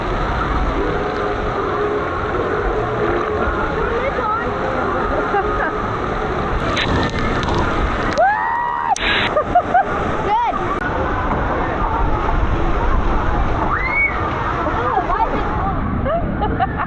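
Steady rushing and splashing water at the LEGOLAND Florida water park fills the scene, with excited shouts and crowd babble mixed in throughout.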